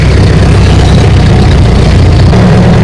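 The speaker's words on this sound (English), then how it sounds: "So first is the 8 km of jeep ride." A jeep carries riders along the 8 km track toward Kudremukh Peak in Karnataka, its engine a loud, close, steady low rumble with heavy vibration and road noise throughout.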